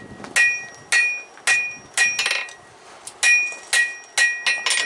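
A blacksmith hammers hot steel on an anvil while forging gathering tongs, ringing metallic blows landing in a steady rhythm of about two per second, close and sharp, with no talking.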